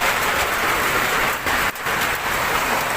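Hail falling outdoors during a storm in Pasay, a dense, loud continuous pelting roar of ice striking surfaces, with one brief dip partway through.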